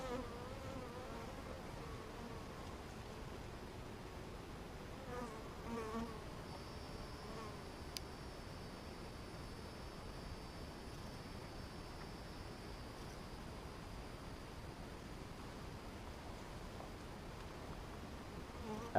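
Honeybees buzzing softly around open brood chamber frames during a first-year hive inspection, a continuous low hum with occasional closer passes of single bees and no talking.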